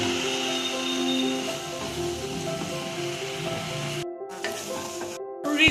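Fried bread pieces being stirred into a pan of vegetables for bread upma, a continuous soft sizzle with faint stirring, briefly cut out twice near the end, with no talking.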